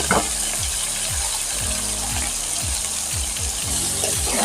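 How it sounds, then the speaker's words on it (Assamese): Meat dropped into a pan of browned onions sets off a loud, dense sizzle of frying, with a rhythmic series of scraping stirs repeating about every half second close by. "এতিয়া মই তাত মাংসটো ঢালি দিম।"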